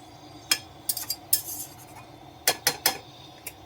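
A metal lid clanks onto a cooking pot of cauliflower curry: several sharp, close clinks in quick clusters with short pauses between them, and no talking.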